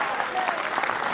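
Steady applause from an audience at a memorial gathering, an even wash of clapping filling the whole moment with no pauses.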